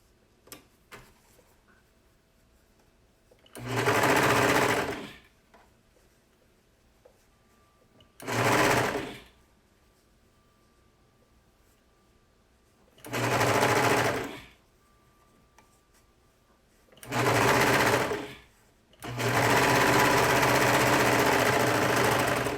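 A sewing machine stitches a cuff onto a dress in four short bursts of close, loud whirring, separated by pauses, with a longer final run at the end.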